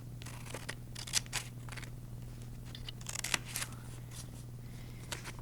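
Scissors snip through paper in a series of short crisp cuts at close range over a low steady hum, with no talking.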